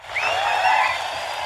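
Audience at a live conference in Lubbock breaking into applause and whoops, a full burst of clapping that swells quickly and holds for over a second.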